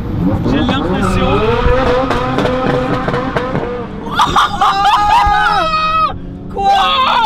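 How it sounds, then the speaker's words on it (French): Ferrari F40 engine revving hard during a drift, loud and close with rising and falling revs, joined by other car engines and tire noise, while excited people talk and shout over it. "il vient de faire un drift énorme juste devant nous là. Et en F40"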